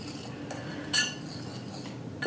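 Dry vegan crepe ingredients, including cinnamon, get stirred in a bowl: soft scraping with a couple of clear clinks of a utensil against the bowl, close and quiet with no talking.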